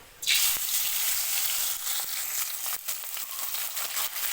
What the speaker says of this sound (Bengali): তেলটা গরম হয়ে গেছে প্রথমে মাছগুলো আমি ভেজে নেব